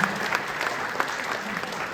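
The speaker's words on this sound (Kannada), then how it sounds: "ಜೋರ್ ಚಪ್ಪಾಳೆ" Audience applause at a Kannada Rajyotsava cultural event, a steady wash of many hands clapping with a few sharper claps standing out.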